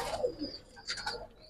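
Caged pigeons at a pigeon farm give a brief, soft coo near the start, followed by faint chirpy sounds, all quiet and close.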